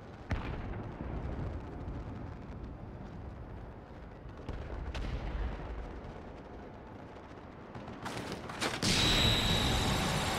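A flashbang in the video game Final Fantasy XIV: Stormblood, with booming blasts and sharp cracks over a dense rumbling backdrop, ending in a loud bright burst followed by a high ringing hiss.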